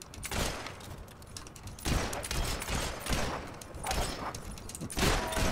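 Rapid gunfire in the video game Fable 3, loud bursts of overlapping shots and rumbling booms filling the whole stretch, with no pauses of quiet.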